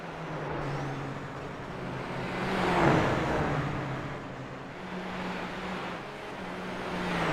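A race car engine on throttle in a racing video game at Circuit Gilles-Villeneuve drones continuously, swelling to a louder peak and easing off again with no break and no talk.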